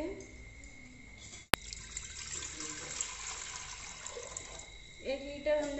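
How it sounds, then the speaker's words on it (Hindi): Water poured into a pressure cooker for steaming rice-flour fara, a steady close splashing stream running for several seconds, broken by a sharp click and ending with a brief metallic clatter. "कुकर में पानी डाल देंगे।"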